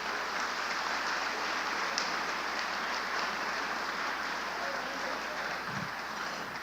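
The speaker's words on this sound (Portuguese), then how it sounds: "Pode aplaudir ao Jesus." Church congregation applauding during a worship service, steady broadband clapping sustained throughout at moderate level with no talk over it.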